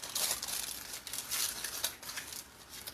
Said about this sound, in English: Get my aluminum foil and go to town.